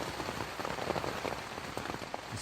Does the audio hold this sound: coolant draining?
no